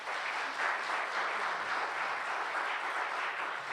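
Symposium audience applauding a dean as he comes up to speak, steady even clapping from a large crowd, fairly distant and soft, sustained throughout.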